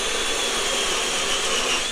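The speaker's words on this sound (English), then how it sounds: "Let's drill this one out the same." A power drill bores through a plastic box with a steady high-pitched whine and grinding hiss, loud and continuous for a couple of seconds with no talk.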